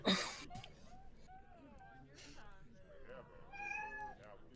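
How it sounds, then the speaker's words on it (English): A pet cat meows in a few short, rising calls, nearby and fairly clear, mixed in among people chatting around a tabletop game. "Your kitty's hungry."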